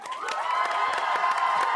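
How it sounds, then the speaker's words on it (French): A studio audience at a youth TV talk show cheers and applauds for a guest's costume, a dense continuous roar of clapping and whoops filling the room, loud and sustained throughout. "J'aimerais qu'on applaudisse très fort le costume de Stéphane Boucher."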